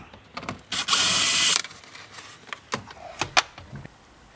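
A power drill spins off a 10 mm nut on the rear door of a 2003 Ford F-150 in one short, loud whirring burst, followed by scattered clicks and small metallic knocks.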